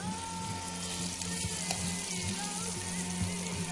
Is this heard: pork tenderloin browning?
yes